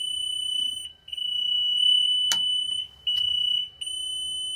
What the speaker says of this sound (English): if the safety lane is stripped, you'll throw an alarm